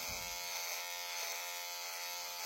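A Kemei KM-H7 electric beard trimmer runs continuously, holding a steady, close, high-pitched electric buzz from start to finish with no talking.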